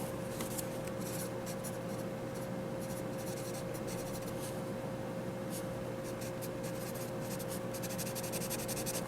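A Staedtler yellow number 2 pencil writes on paper, its graphite scratching in quick uneven strokes over a steady hum of background noise, close and continuous for about nine seconds, with no talk.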